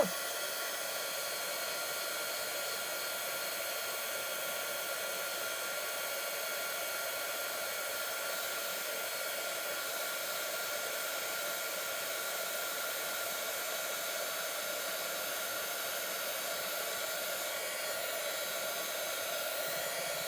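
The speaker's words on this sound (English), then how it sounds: "So I've got my heat tool. I'm going to heat it up." Heat embossing tool blowing hot air in a card-making setup, a steady, continuous whooshing hum that stays even and fairly loud for the whole stretch, with no talking.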